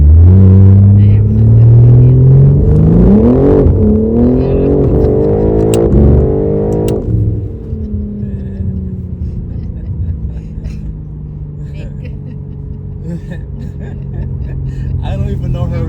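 A 900bhp BMW M4 Competition accelerating hard, its engine loudly rising in pitch through the gears, followed by a lower steady drone of road rumble as the car cruises on, heard from inside the cabin.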